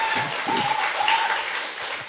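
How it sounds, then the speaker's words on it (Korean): A studio audience on a Korean talk show claps in a brief burst of dense, even applause at moderate loudness, tapering slightly toward the end. "박수!"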